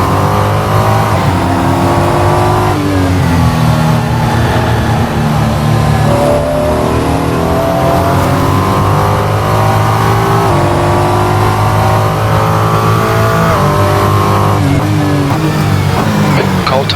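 A Ferrari 296 GT3 race car on track, its engine droning loud and steady, rising and falling in pitch through shifts and corners for the whole stretch with no talk over it.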